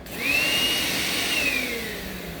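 A Makita 18-volt LXT cordless vacuum fitted with a cyclone separator runs steadily with a high whine that rises and dips slightly as it sucks up sawdust in a workshop, close and fairly loud, with no talking.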